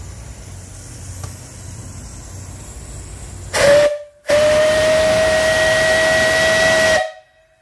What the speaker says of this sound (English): So here's the whistle. I've never blown it before,